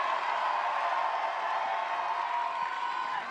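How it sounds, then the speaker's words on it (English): A large crowd at an IFSC climbing World Cup lead semi-final in Villars cheers steadily, a sustained roar of voices and whoops that holds at an even level throughout, distant and broad rather than close. "Big support from the crowd."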